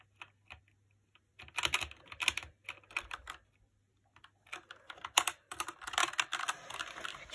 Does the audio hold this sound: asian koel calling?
no